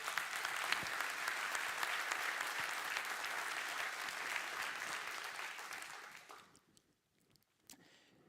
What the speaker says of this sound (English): So give me an applause for this one.